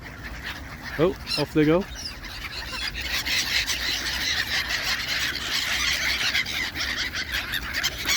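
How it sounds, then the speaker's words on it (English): Geese and ducks at a pond, two loud honks near the start, then continuous bird chatter and flapping, with someone speaking briefly. "we can watch the last of the ducks and the pigeons and the big old goose which is over there"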